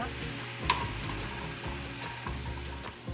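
A tablespoon of butter goes into a simmering maple glaze in a pan, giving a steady bubbling sizzle with a brief clink near the start, moderately loud and continuous.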